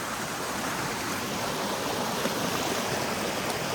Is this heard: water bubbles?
yes